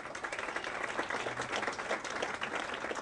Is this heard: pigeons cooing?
no